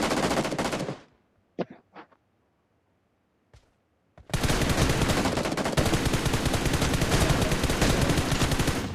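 In the mobile game BGMI after its anniversary update, a loud burst of rapid automatic gunfire cuts off, a few single shots crack in the near silence, and then sustained rapid fire resumes and carries to the end.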